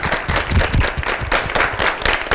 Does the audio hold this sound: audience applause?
yes